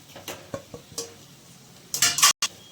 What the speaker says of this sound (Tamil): சேர்த்து நல்லா மிக்ஸ் பண்ணிப்போம்